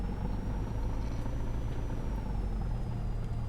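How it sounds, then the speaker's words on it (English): Low-RPM engine grunt from a Cessna 172 in the MSFS 2024 simulator, a constant throbbing rumble with a faint high whine riding over it, steady and close for a few seconds. "That low RPM tractor grunt is just lovely"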